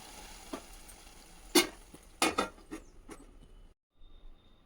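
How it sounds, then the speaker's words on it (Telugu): A spoon scraping and stirring a tomato, fenugreek and dried prawn curry in a pot, a few sharp clinks and scrapes over a quiet simmer, close and sparse. "దీని అంతా మంచిగా కలుపుకొని చూడండి"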